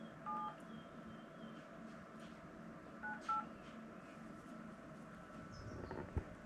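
Telephone keypad dialing tones sound faintly as a number is entered, short beeps spaced out irregularly over a quiet, slightly noisy room.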